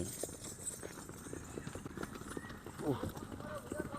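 A horse steps on the ground at an 18-acre horse farm in Malappuram, its hooves giving soft, uneven clip-clops that sound fairly quiet and close, with a faint neigh-like tone partway through.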